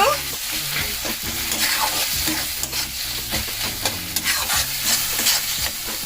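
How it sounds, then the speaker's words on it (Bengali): Spice paste with coriander powder and salt stirred in a pan for a Bengali-style rui fish curry made without onion, with close scraping strokes over continuous sizzling oil and no voices. "ভালো করে মশলাটা মিশিয়ে নেব"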